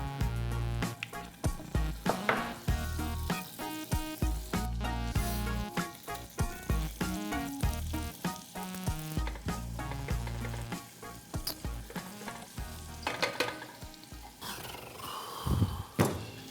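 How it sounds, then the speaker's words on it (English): A julienned onion caramelizes in homemade butter, giving a loud, steady sizzle close by, with intermittent stirring knocks and scrapes throughout. "For the custard itself, I start by caramelizing a julienned onion."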